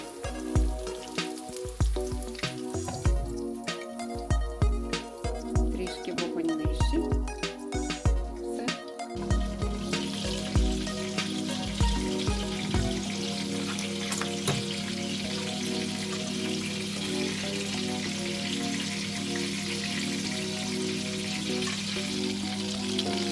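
Ukrainian meat patties frying in a lidded pan, a soft continuous sizzle with a low hum, and some clattering and tapping early on before it settles into an even fry, no speech.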